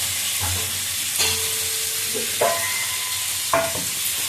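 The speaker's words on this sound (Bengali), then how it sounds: "একটু ভাজা করে নামিয়ে নেবো।" Food sizzling in a hot pan with a steady frying hiss throughout, broken by a few clinks and scrapes of stirring.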